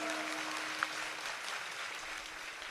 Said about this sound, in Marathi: ज्यांनी जय म्हणलं टाळ्या होऊन जाऊ द्या जोरात.